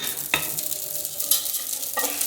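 Oil in a pan heated for pasta, a soft sizzle broken by a few sharp clinks and scrapes of a utensil against the pan, close and without speech.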